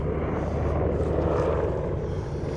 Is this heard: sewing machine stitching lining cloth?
no